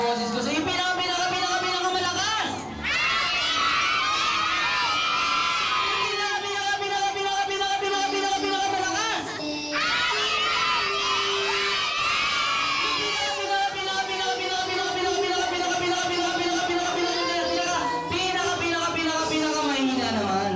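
Group of children at a birthday party shouting and cheering loudly together in a sustained, dense crowd roar, with brief dips before the shouting swells again.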